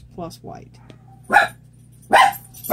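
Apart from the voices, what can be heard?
dog barking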